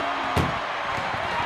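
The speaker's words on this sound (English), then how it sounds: "Trying to at least slam one door shut." A single sharp slam of an ambulance door in a wrestling video game cuts through a steady noisy background, followed by a few faint thuds.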